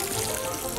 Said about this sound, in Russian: поливаем водой